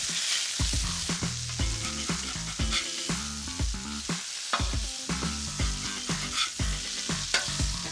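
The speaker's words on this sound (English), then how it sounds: "as this bacon gets crispy, turn it over" Bacon and burgers sizzle loudly on a Weber Slate griddle at a summer barbecue, a steady crackling fry broken by repeated scraping and clattering of a spatula turning the meat.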